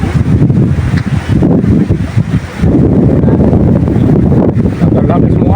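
Strong gusts buffet the microphone outdoors at a cattle farm, a loud continuous rumbling roar with a brief lull before picking up again, while a person talks underneath.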